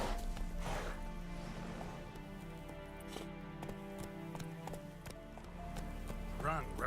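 Hooves of a horse gallop in The Witcher 3 video game, a rapid rhythmic clip-clop over game music, with a voice speaking briefly in the background.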